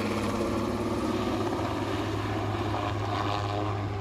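A Cougar military helicopter of the armed forces drones steadily overhead while a large fire burns near a church in Laç, its rotor and engine roar loud and unbroken.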